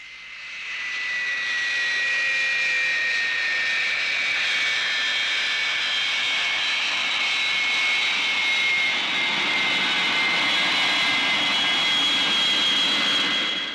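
Passenger aircraft jet engines roar steadily and loudly, a broad whine with sustained high tones, heard nearby and alone without talk.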